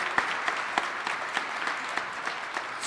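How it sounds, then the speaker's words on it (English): An audience at a Kentucky governor's Writers' Day event gives a warm round of applause. Dense, even clapping continues throughout, with a few sharper claps standing out and no voices over it. "So let's give her a big round of applause of encouragement ahead of time."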